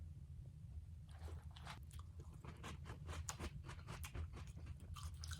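Cinnamon Toast Crunch Minis cereal in milk being eaten up close, with steady crunchy chewing and biting bursts repeating for several seconds over a low background hum, no talking.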